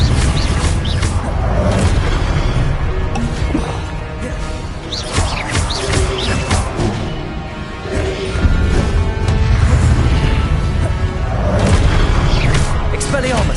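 Blasting-spell explosions and combat impacts in Hogwarts Legacy, dense and loud booms and crashes layered over a continuous roar of battle, with a voice calling out spells throughout.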